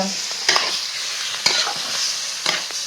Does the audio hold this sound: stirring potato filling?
yes